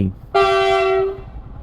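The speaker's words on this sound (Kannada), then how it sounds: "ಗೇಟ್ ಹಾಕೈತಿ ಈಗ ಗೇಟಿಗೆ ಹೋಗಿ ನಿಂದಿರ್ಸ್ಬೇಕು ಗೂಡ್ಸ್ ಟ್ರೈನ್ ಬರತೈತಿ ಗೇಟ್ ಹಾಕ್ಯಾರ" A goods train at a railway crossing lets out a single loud, steady horn blast lasting about a second, close by, with a brief faint voice just before it.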